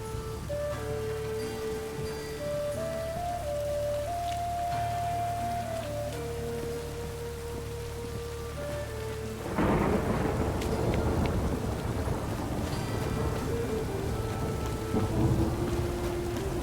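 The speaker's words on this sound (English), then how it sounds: "A storm, damn it." A thunderstorm in The Witcher 3: Wild Hunt, with a tonal musical score giving way to a sudden crack of thunder, then steady heavy rain and rumbling that continue loudly.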